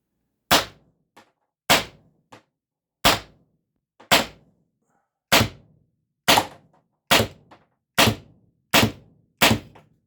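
Pistelle X68 paintball marker fitted with aftermarket O-rings firing ten sharp, evenly spaced shots, each a loud crisp pop with a quick decay and a faint secondary click, close by with no talk.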